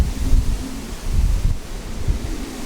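Strong wind buffets and roars steadily, gusting in waves with a rushing, rustling texture and low rumble from air hitting the microphone.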